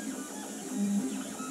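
Stepper motors of a MakerBot Replicator 3D printer with an intermittent carriage fault whine and buzz in shifting tones, a short burst of mechanical printer movement with a steady hum underneath.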